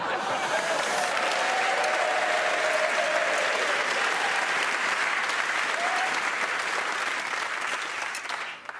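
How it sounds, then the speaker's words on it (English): A sitcom studio audience at a Christmas show bursts into sustained, loud applause that holds for about eight seconds and then starts to fade. "I don't know why they're clapping"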